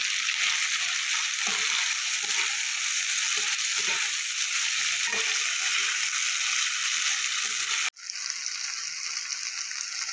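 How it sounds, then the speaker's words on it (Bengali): Chopped onions, two medium ones, frying in a pan for a cauliflower and prawn curry, giving a loud continuous hissing sizzle with soft scraping stirs, briefly cut off then resuming slightly quieter. "এবার আমি দিয়ে দেবো কুচনো পেঁয়াজ, মাঝারি সাইজের 2টো পেঁয়াজ।"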